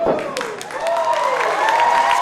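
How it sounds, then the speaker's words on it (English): Crowd at a wrestling match in the Terry Fox Theater applauds and cheers in steady clapping. A commentator talks over it. "Crowd here at the Terry Fox Theater showing their appreciation."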